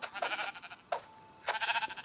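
Minecraft sheep bleating: three short, nasal bleats spaced about half a second apart, close and clear with no talking.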